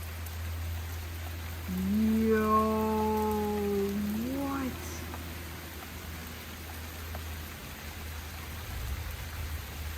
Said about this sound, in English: this is where the real rain starts to hit.